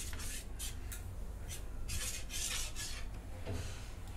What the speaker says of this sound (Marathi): आता हे मिक्स करून घेते.